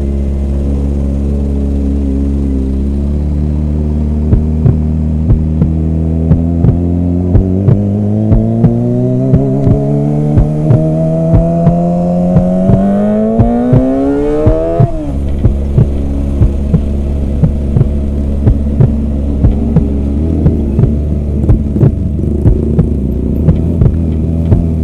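A Kawasaki Ninja ZX-25R motorcycle with a racing exhaust idles with a throbbing rumble, then revs up steadily to a high whine before dropping back to a loud, close idle.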